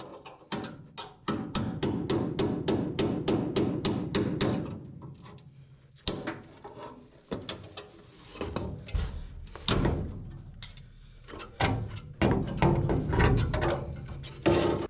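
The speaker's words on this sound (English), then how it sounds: "I'm just using my chisel and hammer" Metal clanks repeatedly as a hammer drives a chisel into floor pan spot welds, with rapid runs of sharp strikes broken by short pauses and scraping, loud and close throughout.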